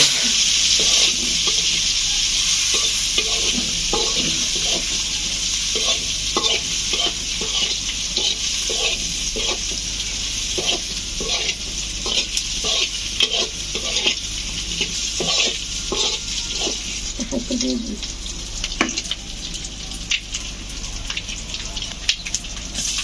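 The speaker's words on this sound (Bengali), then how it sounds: "তারপর দেওয়া হবে শুকনো মরিচের গুঁড়া নাড়াচাড়া করা হবে" Dried fish and eggplant curry stirred in a pan after chilli powder goes in: a continuous loud sizzle with a long run of rhythmic spatula strokes scraping the pan, heard up close.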